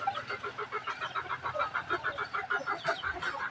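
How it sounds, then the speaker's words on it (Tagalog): A cluster of chickens clucking steadily in rapid, overlapping bursts, fairly close, with no talking. "manok"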